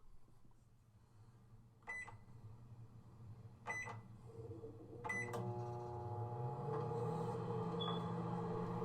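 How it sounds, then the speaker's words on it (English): A microwave oven takes three beeping keypresses, then starts with a steady hum that rises slightly in pitch and carries on alone. "I'm going to go to the microwave"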